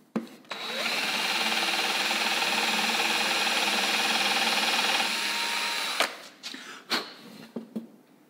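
A power drill bores a hole for a homemade DIY compass, whirring loud and steady for about five seconds, then stopping, followed by a few clicks and handling knocks.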